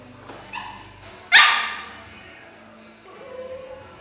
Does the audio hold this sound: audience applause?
no